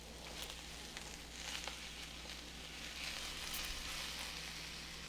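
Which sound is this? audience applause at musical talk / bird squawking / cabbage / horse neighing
cabbage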